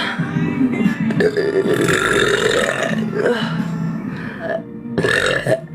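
A man on a livestream lets out a long, loud, drawn-out burp, followed after a short pause by a second shorter belch, heard alone without other talk.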